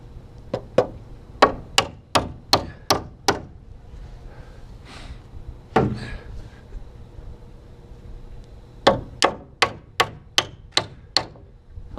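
Nails being hammered into a plate, two bursts of rapid, evenly spaced sharp knocks, about eight blows each, separated by a few quieter taps, loud and close.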